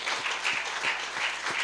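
Faint, brief applause from a church congregation, a short patter of clapping pulses at a distance with no voices.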